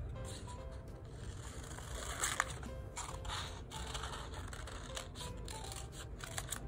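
Scissors cutting a circle out of paper for a giraffe craft, a run of quiet, close snips and rustles with no talking.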